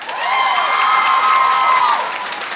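Comedy crowd-work show audience claps and cheers loudly with whoops and shouts, a dense, steady burst of applause that swells and then tapers off near the end.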